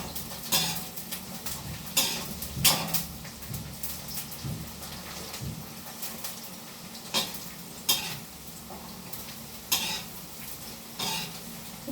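Banana wafers fry in a pan, with a steady sizzle broken by periodic louder scraping and stirring bursts of a utensil against the metal, close by and without talk.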